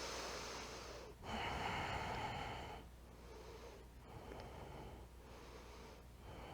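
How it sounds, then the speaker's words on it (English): Slow, deep breathing during a power yoga flow, a long airy inhale and exhale repeating in soft, close waves with no talking. "Breathing."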